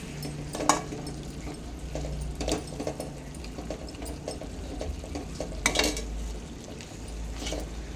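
Chicken fried rice biryani being stirred and mixed in a pan, with repeated scraping and clinking of a spoon against the metal and a low background hum, no talking.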